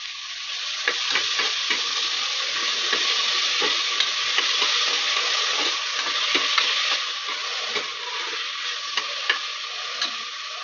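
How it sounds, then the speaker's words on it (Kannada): Finely chopped onions fry in butter with a continuous dense sizzle and crackle, punctuated by light scraping taps of a stirring spoon, close and steady with no voices. "ಲೈಟ್ ಬ್ರೌನ್ ಬರೋವರೆಗೂ ಫ್ರೈ ಮಾಡ್ಕೋಬೇಕು."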